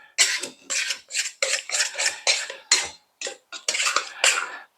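A small, deformed bowl scraper works extremely light, fluffy bread dough for Scottish morning rolls out of a bowl, making a close series of quick, rhythmic scrapes with brief pauses between strokes.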